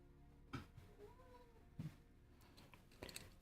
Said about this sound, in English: the lovely cat you might be hearing in the background